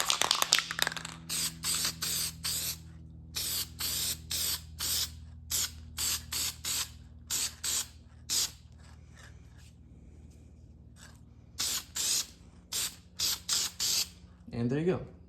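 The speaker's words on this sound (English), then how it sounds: "Just some air filter oil, spray on." Air filter oil sprays from an aerosol can onto a small-engine air filter in a series of short hissing bursts, close and loud, with brief pauses between them.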